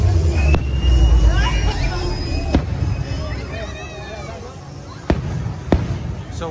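Distant fireworks at Disneyland thud and crack at irregular intervals over a babbling crowd, with a few sharper bangs standing out near the end.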